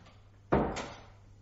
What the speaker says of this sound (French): Fermez la porte, s'il vous plaît.